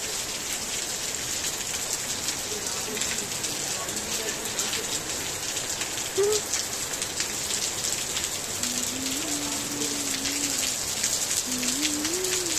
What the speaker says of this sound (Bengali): কি পরিমাণ বৃষ্টি হচ্ছে দেখো